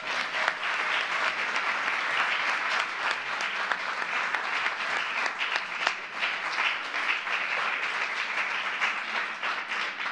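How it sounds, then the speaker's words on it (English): An audience at a presidential event celebrating judicial confirmations gives senators a dense, loud round of applause, steady clapping sustained without a break for about ten seconds. "They deserve a round of applause."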